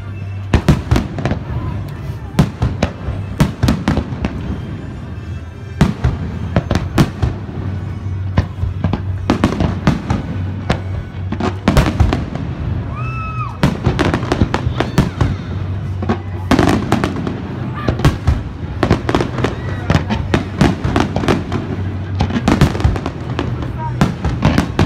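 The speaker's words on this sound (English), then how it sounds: "and then we got the fireworks show just as it got dark" A fireworks show at dusk after live bands, with repeated sharp bursts and crackling booms going off in irregular volleys over a low steady background hum.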